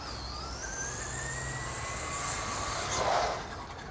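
A Traxxas Slash 2WD radio-controlled car runs at half power, giving a high whine that climbs steadily in pitch as it speeds off, heard alone over a faint background rumble and peaking near the end.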